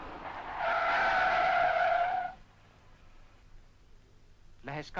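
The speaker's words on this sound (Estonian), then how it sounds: "Äkilises aeglustusolukorras ületab pidurdusjõud haardejõu ja auto satub libisemisse." A car skids under hard braking on snow and ice, giving a loud tire squeal for about two seconds before it fades into quiet rumble and a brief voice.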